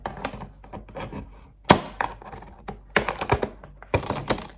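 Cutting the top off a plastic store lettuce container: a series of close, sharp crinkly snips and knocks in irregular bursts, with a louder crackling crunch near the middle and several more toward the end.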